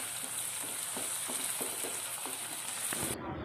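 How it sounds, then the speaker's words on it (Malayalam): Onions and green chillies sautéing in a pan for mushroom theeyal, with a dense hissing sizzle and regular soft scrapes of stirring, near and steady, cutting off abruptly near the end, with no talking. "എന്നിട്ട് ഇതെല്ലാം കൂടെ നല്ലപോലെ ഒന്ന് വഴട്ടിയെടുക്കണം"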